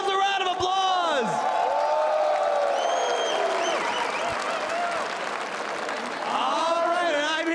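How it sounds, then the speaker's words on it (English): A large esports crowd at a League of Legends final applauds and cheers, dense clapping with whoops and shouts throughout, while voices call out over the noise. "Give yourselves a round of applause."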